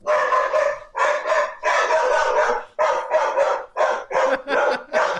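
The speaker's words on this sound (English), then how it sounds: "That's my dog, Alfie." Alfie, a pet dog, gives a loud, close run of drawn-out, excited barks and yowls in quick repeated bursts, with brief gaps between them.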